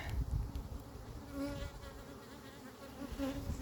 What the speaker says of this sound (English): here are the bees the next morning after the Verroa treatment.